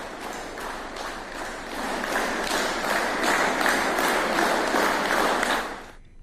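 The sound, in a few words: railway officials applauding recovered police constable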